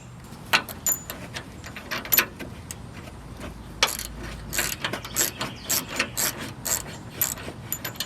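Ratchet wrench loosening bolts on shackle recovery points during a vehicle install, with quick bursts of sharp metallic clicking separated by short pauses, close and fairly quiet.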